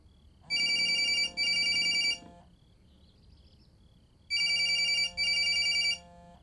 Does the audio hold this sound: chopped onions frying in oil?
no